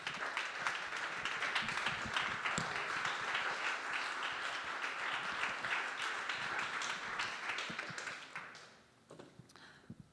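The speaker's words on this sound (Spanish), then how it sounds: "dele un aplauso al Señor" Church congregation claps together in a steady, dense round of applause lasting about eight seconds, moderately distant, then fading out with a few scattered claps.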